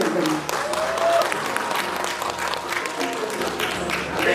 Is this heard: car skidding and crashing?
no